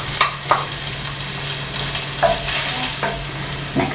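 Garlic is dropped into sizzling belly pork in a hot pan for Filipino adobo, giving a loud, steady fry hiss broken by a few sharp scrapes of stirring.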